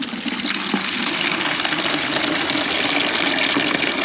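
Water rushes from an opened household tap at about 2.7 bar, roughly 30 litres a minute, a loud, steady, broadband gush that runs unbroken and alone throughout.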